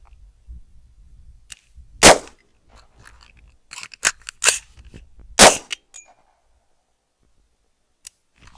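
Rifle shots fired during a pistol and rifle shooting drill outdoors: a few sharp, loud cracks at irregular intervals with quieter mechanical clicks and handling noises between them.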